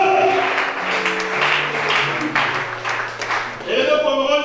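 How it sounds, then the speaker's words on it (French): A congregation applauds during a church service, with scattered clapping beneath a voice and sustained tones. "Acclame pour ça."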